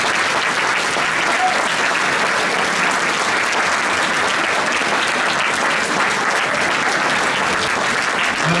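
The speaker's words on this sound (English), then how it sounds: "give the parents a round of applause" Sustained applause from a sizable audience at a youth jazz orchestra Christmas concert, dense and even clapping that continues at a steady level for the whole stretch without talk.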